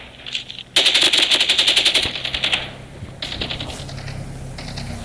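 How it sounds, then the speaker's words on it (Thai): Call of Duty video game gunfire: a loud rapid automatic burst, then a pause and a shorter, quieter burst of shots, close and crisp, with no talking. "ยิงใครไม่รู้แต่ก็ยิงไปเถอะ"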